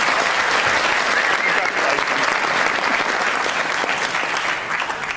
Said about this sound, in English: That's got to be worth a round of applause